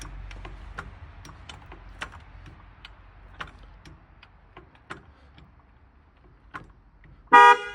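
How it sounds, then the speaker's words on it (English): A Toyota Tundra Protect-X security sensor alarm goes off, triggered by the truck's tilt sensor as it is jacked up. Faint clicks and taps from the jack come first, then a loud, sharp burst of alarm sound near the end. "It says it'll go off after it senses 1 degree of change in how it's sitting."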